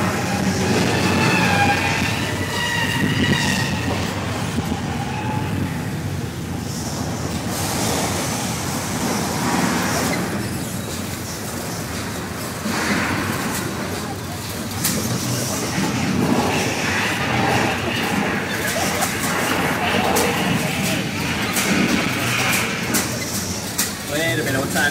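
A train rumbles and clatters loudly through a Universal Studios ride set with a collapsed ceiling and a gas truck, a continuous roaring rush mixed with screeching and crashing effects and excited voices.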